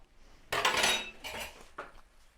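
Cutlery clatters against a plate in a loud burst, followed by a couple of lighter clinks, close by with no talking.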